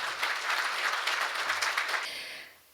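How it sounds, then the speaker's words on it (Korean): A crowd at a law school anniversary ceremony claps in a brief, full burst of applause that tapers off near the end. "큰 박수 부탁드립니다"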